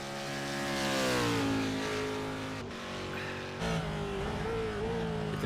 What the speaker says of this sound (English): It's a Ford GT3. I mean, listen to it.